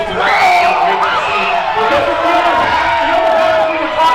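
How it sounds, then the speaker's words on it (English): Excited wrestling crowd at the Universal Fury 6 event in Bradenton County, a dense continuous roar of cheering and shouting voices, loud and sustained throughout without a break. "This Bradenton County crowd is so excited for the action and the energy that our talent are bringing to the table tonight."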